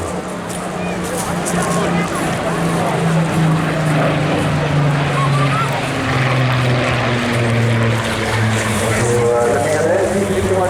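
A Spitfire and a Mustang fly past at the Eastbourne Airshow, their propeller engines droning as a sustained roar that shifts slowly in pitch. An announcer talks over the aircraft noise throughout.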